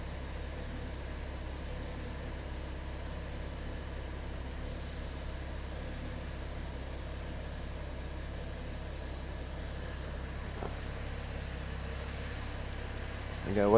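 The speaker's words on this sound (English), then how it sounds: "I gotta wait on the engine to get warm" A steady low car engine hum idling while warming up, without change, fairly quiet and constant, with a small click and a rising sound at the very end.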